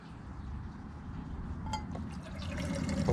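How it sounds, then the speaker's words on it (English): Water being poured into the pot of a Jetboil-style camping stove, about two cups, a close trickling fill with small clinks of the pot, steady and moderately quiet, with no talking. "throw a little bit of water in there"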